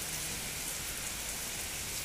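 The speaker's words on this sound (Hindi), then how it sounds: "ठंडी ठंडी हवा है और बारिश है जी" Steady rain falls with a cool wind in Lahore, a dense, even hiss of drops that continues without a break and has no voices over it.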